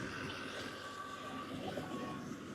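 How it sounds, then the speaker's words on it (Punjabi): A steady low tractor engine rumble with a droning hum holds constant during wheat harvesting, close by and fairly loud, with no talking. "ਆ ਟਰੈਕਟਰ ਆ"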